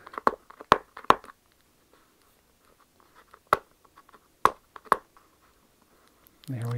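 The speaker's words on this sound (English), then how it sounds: "I think maybe we can just peel this tape off here." Tape being peeled off a cardboard tablet box, a series of sharp, close ripping and crackling bursts spaced irregularly with quiet gaps between them, ending in a low rustle.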